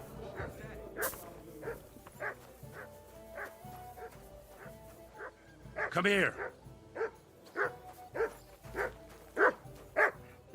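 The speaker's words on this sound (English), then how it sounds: "Look, what are you barking at?" A dog barking in the video game Kingdom Come: Deliverance II, a string of short, fairly close woofs and yips at an uneven pace, with someone talking over them.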